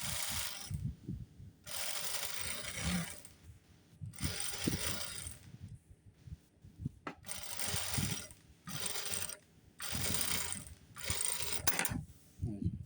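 A sewing machine runs in repeated bursts of rapid mechanical stitching on a salwar, each run lasting about a second or two with short pauses between, fairly quiet and close, with no speech.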